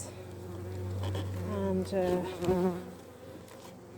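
Honeybees from a busy backyard hive drone in a dense, close hum that swells and wavers, with a person's voice speaking over it briefly.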